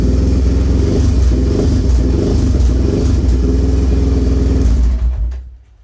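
A motorcycle engine fitted with a Cuervo +3mm throttle body runs loud and close, a steady rough mechanical drone at idle with slight surges, then cuts off abruptly near the end.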